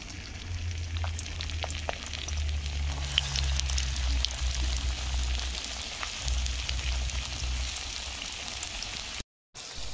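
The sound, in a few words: soybean omelette frying in hot oil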